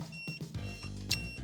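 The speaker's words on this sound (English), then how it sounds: "And that is how the alarm sounds." A security alarm on a locked Aventon Aventure M mid-drive fat tire e-bike sounds a short electronic tonal chirp pattern with a few pulsed beeps, moderately loud and close.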